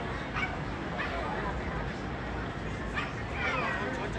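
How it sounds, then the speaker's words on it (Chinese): A dog barks and whimpers in short bursts beneath near, continuous voices talking over a steady background hum. "他想跟狗狗玩。"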